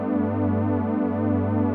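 An Arturia synthesizer with its filter cutoff pulled down plays a dark, mellow sustained note that holds steady and close for nearly two seconds, alone with no voices.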